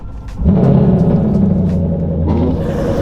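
A loud car engine fires up with a deep rumbling catch, then settles into a heavy, throbbing idle that stays close and strong throughout.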